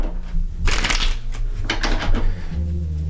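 Tarot cards riffle-shuffled up close in a few quick bursts, crisp papery flutters and slaps with brief pauses between them.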